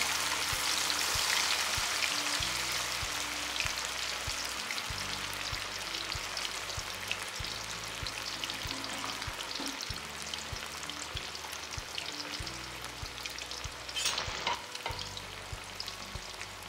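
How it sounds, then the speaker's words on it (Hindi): Fish pieces frying in hot oil in a kadhai, giving a steady, close crackling sizzle that fills the whole stretch with dense bubbling spatter, fairly loud and continuous without a break. "ऑयल हमारा गर्म हो गया है, तो अब हम मछली डाल देते हैं कढ़ाई में।"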